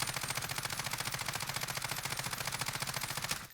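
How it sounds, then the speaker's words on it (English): Ram 7 assault rifle in Warzone emptying a full magazine in one unbroken, rapid, loud burst of evenly spaced shots that runs almost three and a half seconds before cutting off abruptly. "the Ram 7 definitely probably has the hardest recoil pattern to control. One more full mag"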